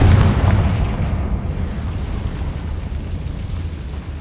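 A Confringo blasting spell in Hogwarts Legacy detonates with a loud deep boom at the start, its rumbling decaying over a few seconds, no talking.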